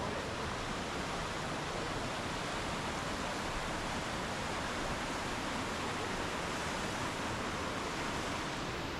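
Rushing water at Bells Rapids near Perth gives a constant, dense, even roar that stays steady the whole time, like a stream tumbling over rocks, with no clear voices.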